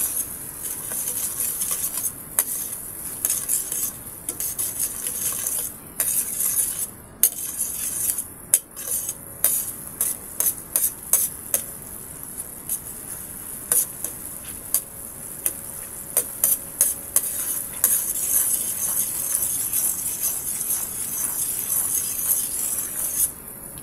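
Fried pork adobo, with a spoonful and a half of brown sugar just added, stirred in a pan: a steady high hiss of frying with repeated metal utensil clicks and scrapes against the pan, close and fairly loud, no talking.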